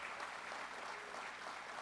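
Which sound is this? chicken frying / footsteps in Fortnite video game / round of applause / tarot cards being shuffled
round of applause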